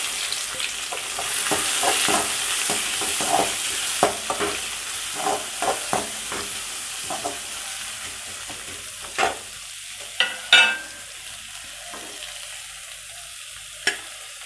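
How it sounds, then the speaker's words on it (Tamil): Onions and mustard seeds fry in a pan for adai dosa, with a steady background sizzle broken by scattered stirring scrapes and a few sharp clanks near the end, close and moderately quiet, with no talking. "இப்போ இதில் அந்த வெங்காயம் போட்டுறேன்"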